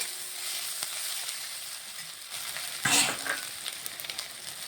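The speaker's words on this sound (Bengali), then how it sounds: "তেলের মধ্যে দিয়ে দিলাম ভালোভাবে লঙ্কা আদাটা ভেজে নিচ্ছি" Ground ginger and green chilli paste fries in hot oil for a raw jackfruit curry, a close, steady sizzle with a brief louder burst of spattering as it is stirred.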